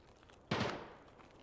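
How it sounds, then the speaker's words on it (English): A single sharp gunshot in a video game, sudden and fairly loud, with a short decaying tail, the only sound against a quiet background. "Definitely were gunshots"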